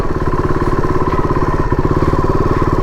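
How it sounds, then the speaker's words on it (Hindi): KTM RC-390 motorcycle riding through mud and braking hard, its single-cylinder engine giving a steady, loud, close rhythmic thrum with clattering pulses throughout, no voices. "देखो अब जोर से ब्रेक मारूंगा कुछ नहीं होगा, कीचड़ में"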